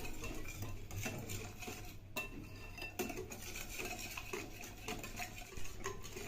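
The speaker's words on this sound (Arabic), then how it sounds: "نخلط هذه المكونات كلها مع بعض" Spoon stirring and scraping through chicken marinade of lemon, garlic, Maggi powder and dried thyme in a bowl, a steady close run of clinks and rubbing scrapes with no talk.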